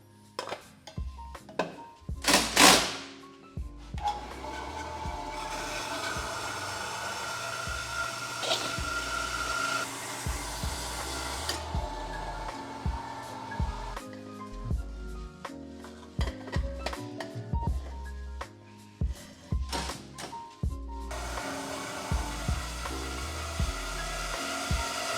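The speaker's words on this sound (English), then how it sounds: "Set our pieces up in the saw." A saw cuts titanium pipe pieces for the intake on a BMW X5M, making a sustained metallic whine with clanks and knocks of the metal being handled before and after the cut.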